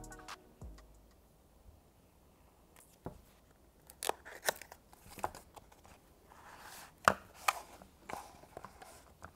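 Apple AirTag packaging is unwrapped up close: quiet scattered clicks, tearing and crinkling of paper and plastic in irregular bursts, with no talking.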